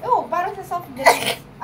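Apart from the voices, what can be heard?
sneeze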